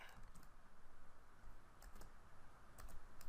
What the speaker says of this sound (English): I'm going to type vehicle dot print.